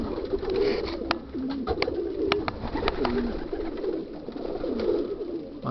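Pigeons coo steadily inside a loft holding around 240 birds, mixed cocks and hens, with repeated soft rolling calls layered over a busy background of other bird sounds and occasional sharp wing claps.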